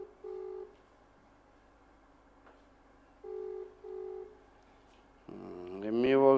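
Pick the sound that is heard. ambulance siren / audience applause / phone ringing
phone ringing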